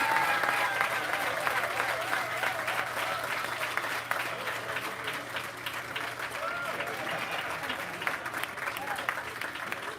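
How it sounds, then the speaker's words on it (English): Sustained applause from a crowd at a life achievement award, dense clapping holding steady for the full stretch before easing slightly. "I think he deserves a round of applause."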